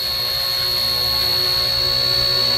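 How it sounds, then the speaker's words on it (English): A radio-controlled ERA Bell 206 model helicopter hovers close by, giving a steady, smooth whirring hum with a constant high whine and no breaks or voices. "See how quiet and smooth this helicopter is."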